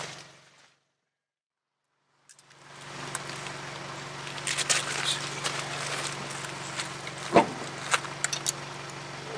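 Refitting a front wheel onto a 2009 Toyota Tacoma 4WD after ball joint and wheel bearing repair, heard as scattered metallic clunks, knocks and light rattles close up, with one heavier thump near the end.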